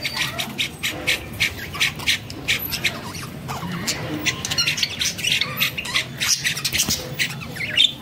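Pet Java sparrows and cockatiels kept in a cage, squawking and chirping in rapid, sharp calls that come in close, busy bursts throughout, with light pattering of movement underneath.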